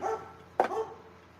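A dog gives a single short, sharp bark at moderate distance, standing out once against a quiet indoor background with a low steady hum.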